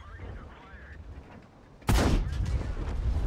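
A tank cannon firing in World of Tanks from a WZ-131 light tank, a sudden loud boom after quieter engine rumble, followed by a sustained crackling, rumbling tail; a voice is faintly present beforehand.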